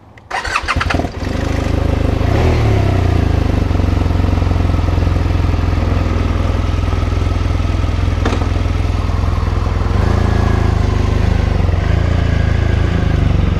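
A 2015 BMW R1200RT motorcycle engine starts with a quick cranking burst, then settles into a loud, steady, rumbling run that builds slightly, heard close with no voices.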